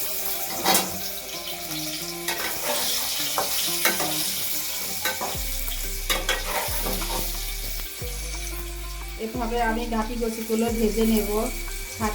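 Taro coated in mashed lentils frying in hot oil with turmeric and salt, a steady sizzle broken by scraping stirs and clinks of a spatula in the pan, close and continuous.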